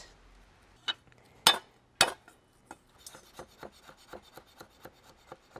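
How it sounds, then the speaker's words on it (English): A knife chops roughly through garlic cloves on a wooden board outdoors. A few sharp, loud strikes come first, then a quick, steady run of lighter taps. "So a roughly chopped garlic."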